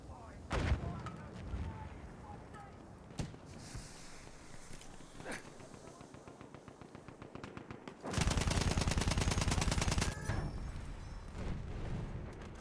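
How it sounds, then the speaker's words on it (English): Machine gun fire in Battlefield 1, a war shooter game, with scattered single shots early, then a loud sustained automatic burst for several seconds near the end amid battlefield noise and faint voices. "There's a machine gun!"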